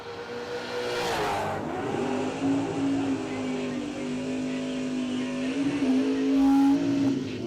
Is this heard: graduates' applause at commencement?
no